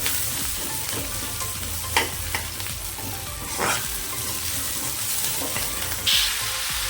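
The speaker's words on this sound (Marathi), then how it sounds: "आधी जो उरलेला कांदा होता तो सगळा छान परतून घ्यायचा." Chopped onion sautés for a veg dum biryani gravy, giving a steady, close sizzle broken by occasional scraping stirs in the pan.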